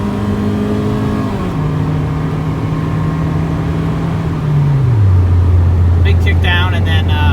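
A 1997 Honda Civic Del Sol Si with its single-cam VTEC engine pulls hard at full throttle on a back road, a loud steady drone with engine pitch dropping as it kicks down, then climbing as revs build.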